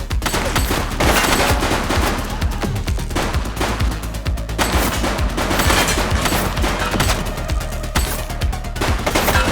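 Rapid, loud gunfire from a fleeing suspect in The Precinct video game, sustained bursts of shots crackling continuously without pause.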